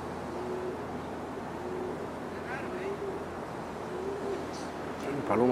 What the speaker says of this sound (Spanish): Oh, la palomita hablando para allá.